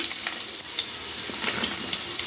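Onion going into hot oil with fenugreek for a tomato fish curry, a bright, crackling sizzle that stays steady and close throughout, with no one speaking.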